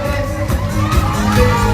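An audience at a live Italian pop concert in Latina cheers and shouts loudly, voices and whoops layered together in a dense steady roar with some tonal singing or music underneath.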